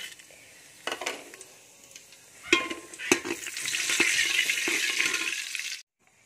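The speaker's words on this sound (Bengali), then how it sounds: "ঘিয়ের মধ্যে আমি তেজপাতা দিচ্ছি দুটো, শুকনো লঙ্কা দিলাম, জিরে দিয়ে দিচ্ছি।" Bay leaves, dried red chilies and cumin seeds fry in ghee in a pan. A few stirring clinks come first, then a hissing sizzle builds and holds steady before cutting off abruptly near the end.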